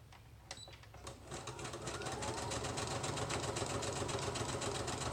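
A sewing machine stitches along the bottom of a wrap-around junk journal pocket, a steady rapid mechanical whir that builds after a few clicks and runs on, fairly quiet and close.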